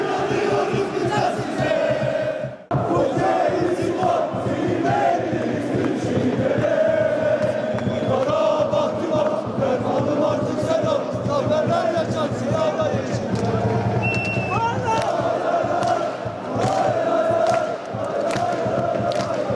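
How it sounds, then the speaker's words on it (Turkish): Football fans in a Turkish stadium chant and cheer in a loud, continuous roar of massed voices with rhythmic surges, a commentator's voice audible over the crowd. "Aslında tezahüratlar, destekler devam ediyor"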